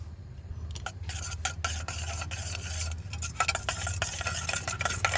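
A spoon stirs boric powder to dissolve it for homemade Boroline cream, giving rapid repeated scraping strokes against a container, close and steady throughout with no voices.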